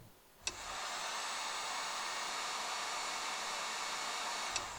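Heat gun blowing on an egg, a steady close rushing hiss that switches on with a click, runs evenly for about four seconds and cuts off with another click.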